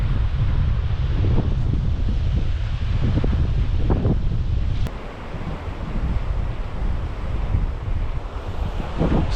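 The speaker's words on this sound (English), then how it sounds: "the wind's now absolutely funneling" Strong wind buffeting a microphone on the Ben Nevis mountainside, a loud low rumbling roar with gusty surges that briefly eases midway before building again, no voices.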